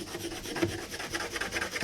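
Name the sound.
pencil marking on plastic surface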